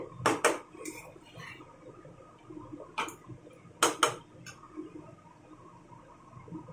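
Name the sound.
stirring and frying rice in a pan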